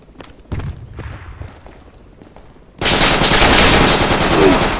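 Gunfire from an enemy shooting at the player in Project Reality, a military shooter, breaks out as a loud, sustained rapid burst after a few quieter thumps and footsteps.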